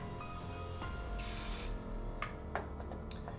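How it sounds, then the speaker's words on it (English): A short hiss of cooking spray from an aerosol can, quiet, with a few small clicks and taps before and after. "I do recommend spraying them with some cooking spray as well."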